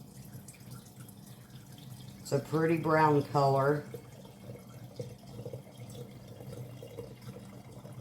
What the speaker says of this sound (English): So let's go ahead and pour this first quart in here.